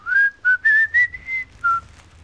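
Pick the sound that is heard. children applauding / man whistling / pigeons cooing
man whistling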